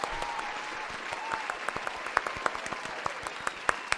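A studio audience or podcast crowd gives a steady round of applause, a dense patter of claps with sharper individual hand claps close by, continuing throughout.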